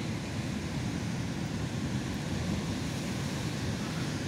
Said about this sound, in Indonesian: Ombaknya sangat besar sekali dulur, lumayan besar.